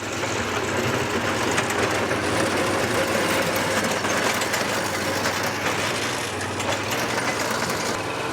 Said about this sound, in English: It's that same small Kubota diesel that a lot of the little tractors have